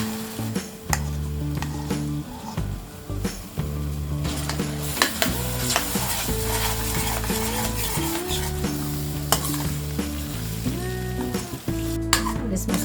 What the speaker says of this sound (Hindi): इस मसाले को हम लो फ्लेम में फ्राई करेंगे।